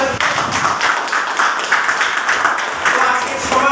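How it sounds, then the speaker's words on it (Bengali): An audience clapping loudly together, a dense steady patter of many hands filling the whole stretch, with faint voices underneath. "কোলিটার অ্যাক্টিভিটার সদস্যদের জন্য সবাই মিলে জোরে হাততালি।"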